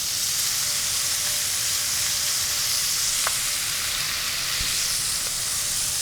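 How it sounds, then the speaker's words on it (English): Pork browning in a single layer on the bottom of a Dutch oven, with a loud, even, hissing sizzle throughout and a couple of faint taps. "making sure that it all has contact with the bottom of this Dutch oven so it gets nice and brown"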